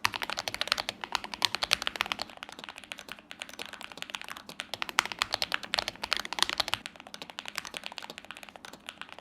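Continuous fast keystrokes on a lubed ASUS mechanical keyboard, nearby, producing a dense stream of muted, even clacks with brief pauses.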